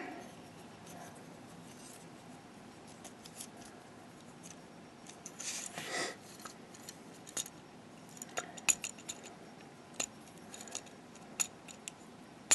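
A plastic Transformers MP-21 Bumblebee toy having its wheels flipped out: faint, sparse plastic clicks and light snaps, with a brief rustle and a few sharper ticks near the end.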